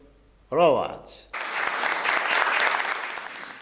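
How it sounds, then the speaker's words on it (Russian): Cabinet ministers give Berdimuhamedov a standing ovation, a dense, steady applause that fills the room after a brief voice at the start. "Члены Кабинета министров, в свою очередь, стоя аплодировали Бердымухамедову"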